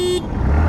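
A TVS Jupiter 125 scooter's horn sounds with a steady tone in the first moment, then gives way to low engine and road rumble.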